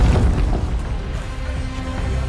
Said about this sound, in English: There's explosions.